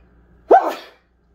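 One loud, close human sneeze bursts out abruptly, with a short trailing breath, between stretches of near silence.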